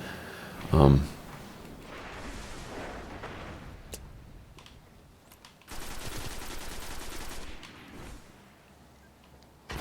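Hand cannon gunfire in the video game Destiny during a multiplayer duel: a loud sharp shot near the start, then scattered distant shots and a sustained burst of rapid gunfire in the middle, all under ongoing talk.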